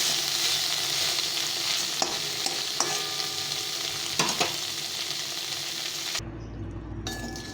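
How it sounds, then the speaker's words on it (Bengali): Bitter gourd and potato curry with mustard paste simmering and sizzling steadily in a pan, with occasional utensil clinks and stirring scrapes, a sudden quieter stretch near the end. "উচ্ছে আলু সর্ষে বাটা, এটা খেতে ভীষণ ভালো লাগে। ভালো করে একটু ফুটে নিতে হবে।"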